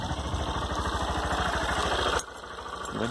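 A Honda Bros 160 motorcycle engine runs close by on a farm, a steady rapid thumping that suddenly drops in level as the rider shifts, with no talk.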